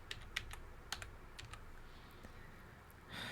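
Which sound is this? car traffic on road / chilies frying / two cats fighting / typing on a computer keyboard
typing on a computer keyboard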